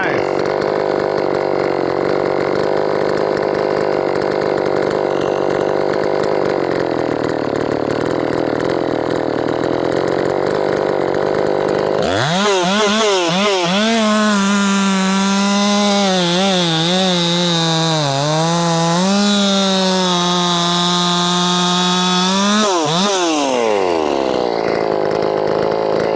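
A ported Efco MT 6510 chainsaw holds a steady high-revving drone, then drops into a loud, wavering idle whose pitch dips and rises before slowly settling, with no talk over it.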